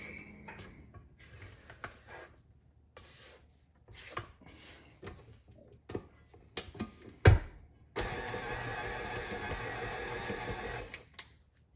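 An electric hand mixer whirs steadily through zucchini bread batter in a home kitchen, a loud continuous buzz starting partway in after a few scattered clinks and handling noises, with no talking.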